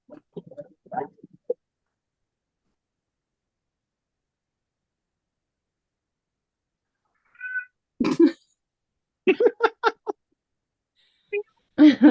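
A pet cat meows at a closed bathroom door, giving scattered meows in short bursts separated by long silences, close and clear with no other sounds.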